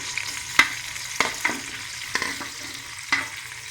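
Eggplant and potato frying in hot ghee sizzle steadily, broken by several sharp clinks and scrapes of a spoon stirring the pan, with no talk.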